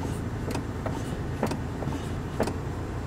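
Toyota Tacoma gear shifter clicking into park, a few soft mechanical clicks spaced about a second apart over a steady low cabin hum.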